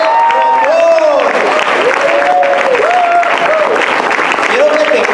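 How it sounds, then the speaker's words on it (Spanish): A crowd applauds loudly for speaker Noé Tapia, dense continuous clapping mixed with raised voices calling out over it. "vamos a darle un fuerte aplauso al tremendo de Noé Tapia"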